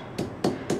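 Chillies for a Kerala mulaku chammanthi are pounded from a low height, giving three dull, evenly spaced thuds close by.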